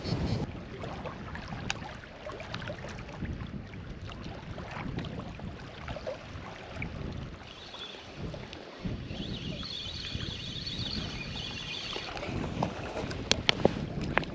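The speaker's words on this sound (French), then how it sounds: "le vent est trop fort, c'est très compliqué" Strong wind buffets the microphone outdoors while fishing on the water, a constant low rumbling roar with gusty swells and faint rustling throughout, no clear talk.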